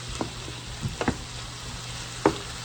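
Lasagna ingredients with garlic being stirred in a crockpot: a few soft, wet scraping sweeps and clicks of a spoon against the pot over a low steady hum, sparse and close.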